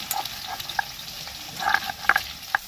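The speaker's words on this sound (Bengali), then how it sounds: "দেখো সমস্ত ভাজা হয়ে গেছে কুমড়ো ডাটা সব কিছু" Pumpkin and vegetable stalks fry in a pan, making a soft hiss broken by scattered crackles and small pops, fairly quiet and close, with no voices.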